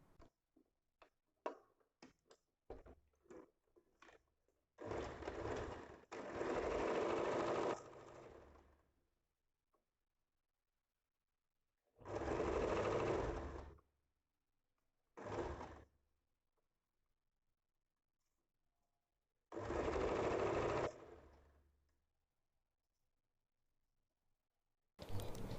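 A sewing machine stitches the shoulder and back neck seam of a cotton nightie in several short whirring runs separated by quiet pauses, preceded by a few light clicks and ticks of handling.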